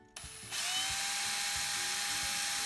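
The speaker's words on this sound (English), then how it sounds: "I just put it on the drill and then spin it." Electric drill spinning a swivel sharpening attachment for Remington and Norelco rotary-head electric razor blades, starting after a brief quiet moment, then a steady high whine that holds loud and even throughout.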